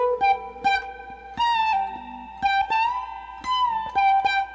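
Electric guitar plays the next phrase of a song, a sequence of clean plucked notes with slides and bends, moderately loud and alone.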